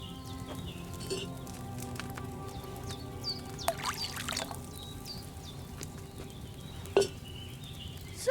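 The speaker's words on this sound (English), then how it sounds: "So, what did you pour in there? Wine, of course." Wine pours from a pitcher into a cauldron in the medieval game Kingdom Come: Deliverance 2, a steady trickling stream with a few clinks of pottery and a louder splash near the end.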